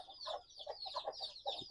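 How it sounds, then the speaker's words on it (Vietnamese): Young chicks cluck and peep in quick, busy bursts while eating wet feed on a farm; the calls are close but fairly soft, with no talking. "Đó thì mình đi cho gà con ăn cho các anh em thấy nha."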